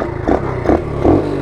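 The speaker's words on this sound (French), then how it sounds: "Je peux le démarrer à l'électrique, mais je peux le démarrer au cric, frère." A Dax motorcycle being kick-started: three short, loud mechanical bursts come at a steady rhythm over a low, continuous engine rumble, close by.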